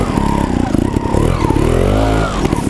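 Gas Gas TXT trials motorbike climbing up an earthen tier, a close, loud engine blipping and revving in uneven bursts with pitch rising and falling as the rider works the throttle.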